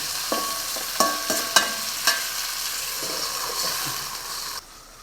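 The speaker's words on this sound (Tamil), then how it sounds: "இந்த இதில் தக்காளி போட்டு விடுவோம் அப்படியே ஒரு மூடி போட்டு கலக்கி மூடிடுங்க" Chopped tomatoes added to golden fried onions and stirred in a pan for rasam: a soft hissing fry with several sharp utensil clinks and scrapes, then the sound drops suddenly near the end, with no voices.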